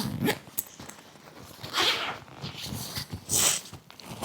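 A zipper on a child's school bag is pulled open in a few short, raspy bursts with pauses between them, close by and fairly quiet.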